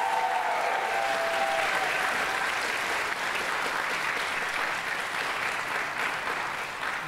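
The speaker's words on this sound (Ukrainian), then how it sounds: "Не побоюсь ще раз попросити оплески для нього" A stand-up comedy audience applauds a comedian's teacher, steady sustained clapping filling the room throughout, with a brief voice at the start.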